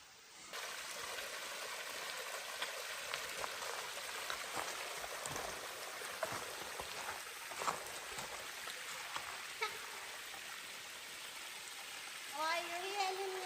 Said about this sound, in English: I really like water like this waterfall, even at this size.